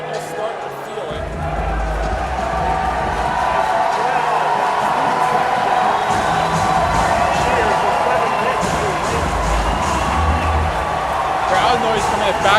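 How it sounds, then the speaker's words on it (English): Crowd noise fills a small basketball arena during an FAU vs Memphis men's game, a steady loud roar of spectators with occasional ball bounces beneath a commentator's voice. "Crowd noise coming back from here from Memphis"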